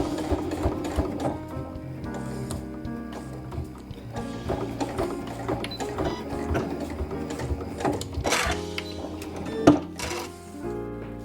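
A sewing machine stitches and backstitches fabric with a rapid, busy mechanical clatter that stays close and steady, with short pauses and a sharp click near the end.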